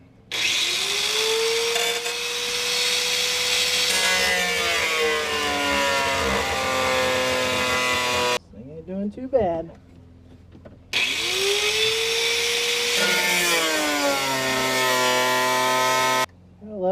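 A cut-off wheel grinds through the sheet-metal floor of a 1993 Dodge Dakota pickup to open a shifter hole, a loud, close, high whine in two long passes separated by a brief pause, with a short spoken remark between them.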